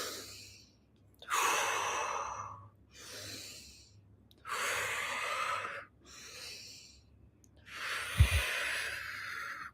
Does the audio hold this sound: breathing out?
yes